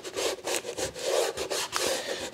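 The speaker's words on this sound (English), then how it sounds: "I'm just going to put a couple of strips of masking tape down" Masking tape is peeled off the roll and pressed down onto a woodworking jig, giving repeated short rasping rubs and tearing scrapes close by, with no talk.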